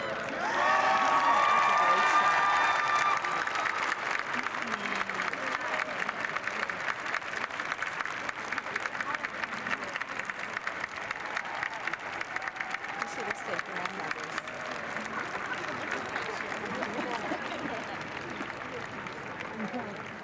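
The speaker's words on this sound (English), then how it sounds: "graduates, please stand and give your moms and stepmoms and your dads too a round of applause for their efforts" Sustained applause with some cheering from a large crowd of graduates at a 2002 Syracuse graduation ceremony, steady and dense through the whole stretch with a slight swell near the start and scattered voices in the mix.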